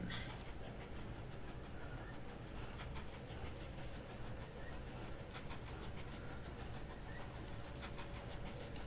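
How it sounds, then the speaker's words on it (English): A train rolling along in the railway-building video game Mashinky, a steady faint rumble with soft rhythmic clicking throughout and no voices. "so why is this train waiting here?"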